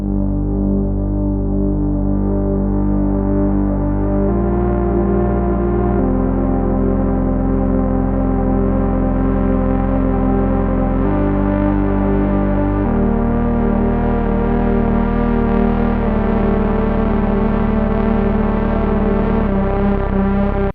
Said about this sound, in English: It's him messing around with a very inexpensive synthesizer and a very expensive reverb unit.